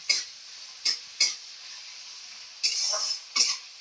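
Onions lightly frying in a pan at home, a soft steady sizzle punctuated by several sharp spoon scrapes and stirring strokes, close by.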